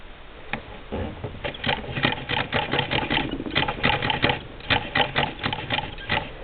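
A Singer Model 20 toy sewing machine stay-stitching fabric, running in a fast, steady mechanical patter of close, regular needle strokes that carries through the whole stretch with no voices over it.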